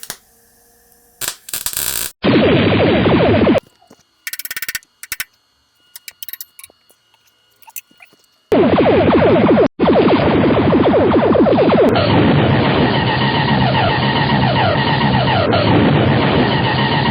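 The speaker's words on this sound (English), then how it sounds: "Let's take these over to the bench grinder and the belt sander and" Bench grinder and belt sander shaping metal top tank mounting brackets for a Jaguar special's cooling system: loud, steady grinding and sanding runs of several seconds, broken by short bursts and quiet gaps, with no talking.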